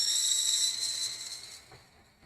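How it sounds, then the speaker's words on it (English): A blender whirs at high speed foaming egg yolks for egg coffee, a steady bright hissing whine close by that cuts off after about a second and a half, leaving near silence. "one more time with the blender"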